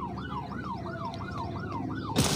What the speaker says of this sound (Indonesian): Sirenenya nggak berhenti berbunyi teman-teman